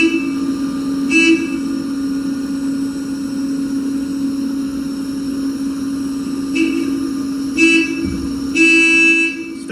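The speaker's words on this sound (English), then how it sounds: "He's honking my forklift horn." A forklift horn sounds in a workshop as a child presses it, giving several short, loud tonal honks at irregular intervals over a constant mechanical hum from nearby machinery.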